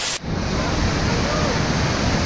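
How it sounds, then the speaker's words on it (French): Winter waterfall at the Cascades du Hérisson, heard from its foot: a loud, steady, dense roar of falling water rushing continuously and up close with no break. "Là, on est au pied de la cascade."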